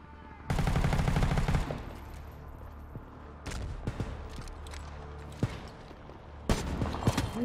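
An MG5 machine gun firing in the video game World War 3: a long loud burst of rapid shots, then scattered single shots and short bursts at varying distances, with no voices.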